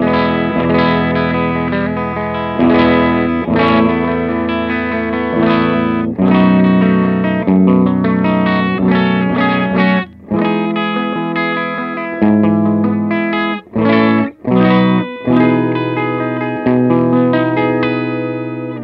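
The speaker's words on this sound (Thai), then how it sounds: "เดี๋ยวลองฟังซาวด์เสียงคลีนก่อน" Clean electric guitar tone from a Lavit CTO prototype signature guitar with Real Tone Custom pickups, played as a continuous run of ringing notes and chords with a few brief gaps, loud and up close with no voices.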